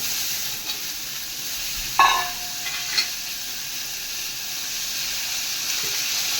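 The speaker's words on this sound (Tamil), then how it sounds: "இப்போ பிரண்டையை நல்லா வதக்கிக்கலாம்." Pirandai (adamant creeper) is sautéed in a hot pan, giving a steady bright sizzling hiss with a couple of brief utensil clinks from stirring.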